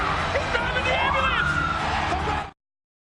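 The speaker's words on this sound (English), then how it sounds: "Wait a minute, there's an ambulance." Ambulance siren from the WWE 2K16 wrestling video game, a rising wail sweeping upward over crowd noise and commentary, loud and close, cutting off abruptly after about two and a half seconds.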